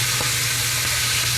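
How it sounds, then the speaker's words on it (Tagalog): Shrimp shells and heads sizzle in a hot pan for palabok stock, a steady close frying hiss with a faint stir, no voices. "igigisa ko naman tong balat saka ulo ng hipon"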